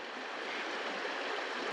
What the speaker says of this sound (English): You can hear the babbling brook.